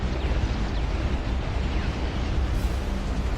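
Continuous heavy rumbling blasts from airstrikes in the RTS game Dust Front, a dense, loud roar of overlapping explosions with no clear gaps, steady throughout.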